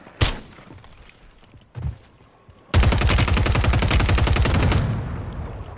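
Rapid automatic gunfire from a gun in a video game, a loud sustained burst of about two seconds following a couple of single sharp shots, all close and with no talk over it.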